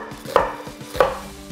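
A knife chops half a small onion on a cutting board, giving two sharp, close strikes about half a second apart over lighter tapping, with no voices.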